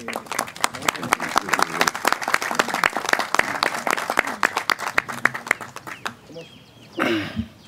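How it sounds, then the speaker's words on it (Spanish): A committee meeting on public safety breaks into scattered audience applause, distinct individual claps at close to moderate distance, rhythmic and uneven, fading out near the end with a brief rustle and voices. "Un aplauso para ese..."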